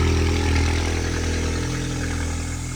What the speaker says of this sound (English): Doing a little cold start here just to kind of